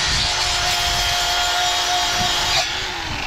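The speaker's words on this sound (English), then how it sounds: "World's quickest sticker removal there." A sticker is scraped and peeled off the rear bumper of a Bubble Eye Chevrolet Silverado truck, giving a loud continuous rough rubbing, tearing noise close by that ends abruptly near the finish, with no speech.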